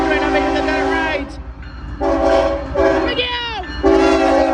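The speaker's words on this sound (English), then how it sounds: "local freight train." A CSX L154 eastbound local freight train passes, sounding its horn in several loud, close blasts, one dipping in pitch as it goes by, over a steady rumble of rail cars.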